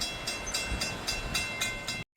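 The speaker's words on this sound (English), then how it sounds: "There is a train coming." A southbound train passes a railroad crossing up close, with a loud steady rumble and rhythmic clickety-clack of wheels over rail joints before cutting off abruptly.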